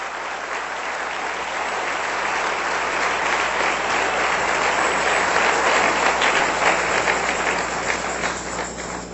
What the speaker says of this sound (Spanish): Denle un aplauso a nuestro Dios, que es muy bueno